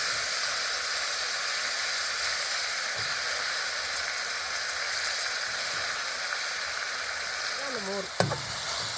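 Banana flower goes into a pan of sautéed onions and tomatoes for banana flower kuzhambu. A dense, steady sizzle fills the whole stretch with a brief clatter near the end, loud and close with no talking.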